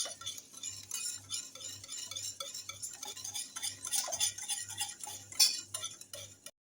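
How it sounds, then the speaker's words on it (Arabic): Cake batter made with eggs and oil is stirred in a bowl, producing close, rhythmic scraping strokes at a steady pace with light clinks of the utensil, and no one speaks. "نور تخلط لنا هذا الخليط ديالنا"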